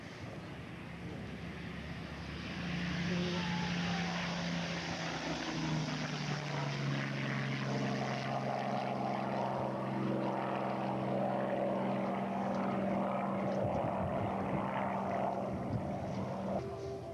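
A Lavochkin La-9 propeller warbird flies at the Warbirds Over Wanaka 2004 airshow, its engine drone swelling from a distant hum to a steady, sustained roar that holds for the rest of the pass, with no speech.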